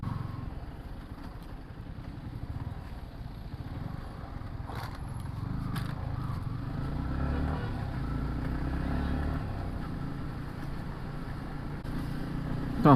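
Heavy road traffic inside a Karnataka forest, heard from a motorcycle on a long bike ride: a steady low engine and vehicle rumble with occasional scrapes and knocks, fairly constant and moderately loud.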